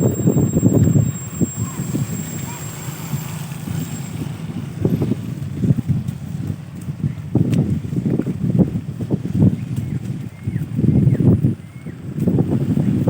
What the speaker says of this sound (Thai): ลมแรงมากนะ